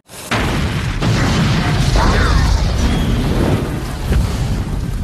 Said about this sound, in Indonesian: Ledakan besar menghancurkan sebagian besar tubuh Terminator.